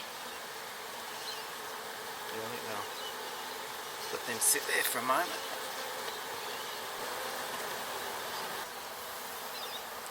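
A swarm of honey bees hangs gathered on a backyard branch, a dense steady buzz filling the whole clip with a brief louder flurry midway, while someone speaks quietly over it.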